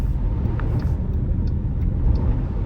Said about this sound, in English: Right now I am just mauling through this slush with ease